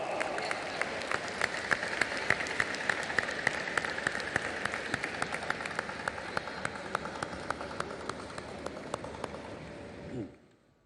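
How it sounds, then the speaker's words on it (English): Sustained audience applause at the closing ceremony of the 52nd International Film Festival of India in Goa, dense clapping holding steady for about ten seconds before fading out abruptly near the end. "Ladies and gentlemen, with a huge round of applause, please welcome the director of the opening film of the Indian Panorama section."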